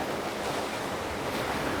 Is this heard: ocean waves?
yes